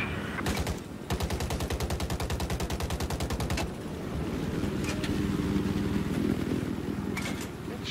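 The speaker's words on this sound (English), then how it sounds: "Where am I getting shot from?" Rapid automatic gunfire rattles in the video game Battlefield 4, a steady burst of evenly spaced shots followed by a denser rumble of battle noise, loud and continuous.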